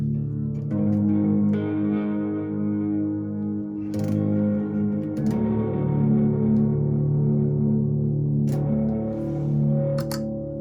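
Sustained electric guitar chords drenched in delay and reverb from pedals, notes smearing into a shimmering wash, with a few fresh strums cutting through the echoing tail.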